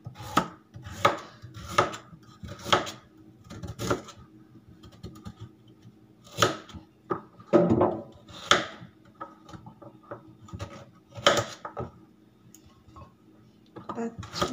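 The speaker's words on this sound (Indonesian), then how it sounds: "Cincang wortelnya, teman-teman." Carrots chopped with a knife on a cutting board, a steady run of sharp, close taps in quick bursts with short pauses, with a voice talking quietly in between.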